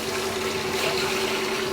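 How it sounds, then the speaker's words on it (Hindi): Water poured into hot oil in a cooking pot on a low flame for jeera rice gives a steady, rushing sizzle and splash, moderately loud and continuous with no talking. "केयरफुली पानी डालेंगे क्योंकि ऑयल हमारा गर्म है"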